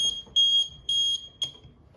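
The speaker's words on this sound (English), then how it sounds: "obviously you can hear it's going into alarm" Shrill water leak detector alarm beeping in short, high-pitched bursts: four pulses in quick succession, loud and close, with nothing else heard.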